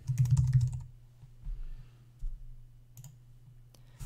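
Keys clatter on a computer keyboard as a name is typed into a box in the Thesis skin editor, a quick burst of clicks at first, then a few sparse taps over a steady low hum.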